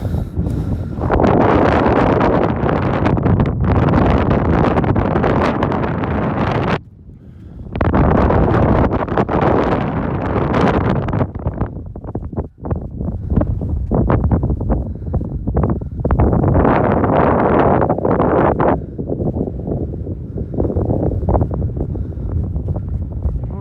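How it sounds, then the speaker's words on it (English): Strong, gusty wind roaring and buffeting the microphone almost continuously on a Malvern Hills hilltop, with a brief lull partway through before the blasts resume. "It's always windy up here though."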